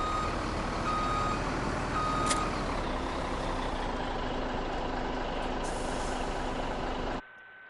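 Reversing beeps from an all-black road train truck in Farming Simulator, a steady alarm repeating over a constant engine drone and hiss for about seven seconds before cutting off abruptly.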